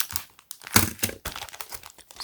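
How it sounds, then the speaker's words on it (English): Close, crisp crinkling of a plastic Ziploc bag being handled, irregular rustles and crackles in quick bursts, loud and up front with no talking. "Come with this nice Ziploc bag"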